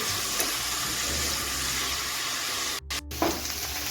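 Potato, cauliflower and onion frying in a pan, a steady close sizzle with stirring throughout and a brief scrape or pause near the end.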